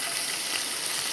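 Fenugreek and mustard seeds sizzle and pop in hot oil while a mango pickle is being made, a close, continuous crackling fry with no voices.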